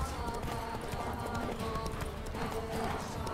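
Horse hooves galloping in the video game The Witcher 3, a dense continuous clatter of hoofbeats blended with loud game ambience and someone talking over it throughout.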